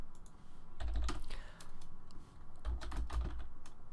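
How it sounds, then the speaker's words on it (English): Rapid computer keyboard typing in bursts, close and fairly quiet, with short pauses between flurries of keystrokes while someone works out where the match goes next in an esports broadcast. "Ektar, by the sound of the typing, is furiously figuring out where we're going to next"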